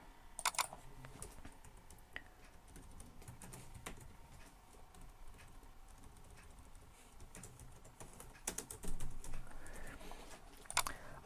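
Code typed on a computer keyboard during an Angular programming session, with soft, close, irregular key clicks running throughout and a few louder clustered taps, under a quiet room background.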